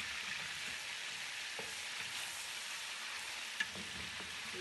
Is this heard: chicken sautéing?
yes